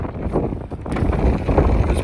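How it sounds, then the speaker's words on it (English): Wind gusts across open desert by a trailer, a rough, uneven buffeting rumble against the microphone that swells and eases, close and alone. "It's pretty windy here"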